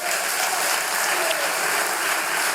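Audience applause at a public meeting, a steady wash of many hands clapping together, fairly loud and even throughout, with no speech over it.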